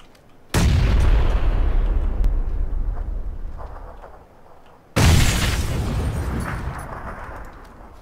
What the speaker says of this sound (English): I have two frags. I'm gonna toss them out.